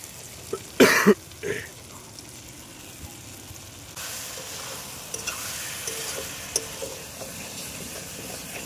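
Ginger garlic paste goes into a pan with chopped tomato for alu dum, followed by a loud stirring scrape and then a steady, gentle sizzle, with a throat clearing near the start.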